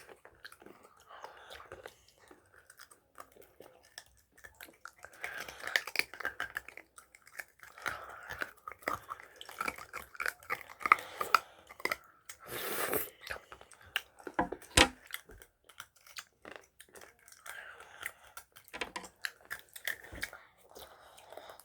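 Someone chews hard rock candy, crunching and gnawing slowly and effortfully at close range, with irregular cracks and clicks over a long stretch and small breathy sounds in between.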